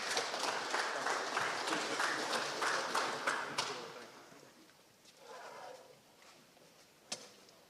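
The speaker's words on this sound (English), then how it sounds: "Let's have a round of applause for Pacoima County" Audience applause at a high school football media day fills the first half, a broad steady wash of clapping that tapers off around the middle, followed by quieter murmur and a single sharp tap near the end.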